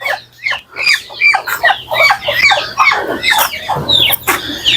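Desi hens clucking steadily on a family farm where ducks and chickens are raised, several birds overlapping in a busy, continuous chorus of close clucks and short squawks, with no talk.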